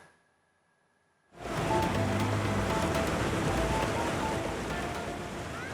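Rushing floodwater of the overflowing Cinendang river in Aceh Singkil, a dense, loud, continuous roar of churning water that swells in suddenly after near silence and holds steady.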